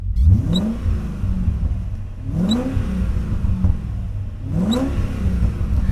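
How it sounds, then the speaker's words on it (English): BMW car engine with a muffler delete revving in three repeated pulses, each a rising throaty rasp that settles back to a steady idle between them, close and fairly loud. "The car actually sounds pretty nice too. It has a muffler delete."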